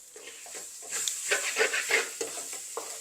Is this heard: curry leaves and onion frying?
yes